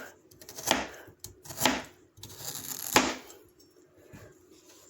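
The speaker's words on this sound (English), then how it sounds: "so I stack them and chop them" A knife chops through stacked pieces of cooked prime rib on a cutting board in three or four distinct, sharp strokes spaced about a second apart, close and crisp with quiet gaps between.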